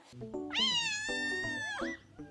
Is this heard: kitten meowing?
yes